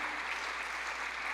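A church congregation claps during a sermon, a brief, dense patter of applause that sounds somewhat distant and steady.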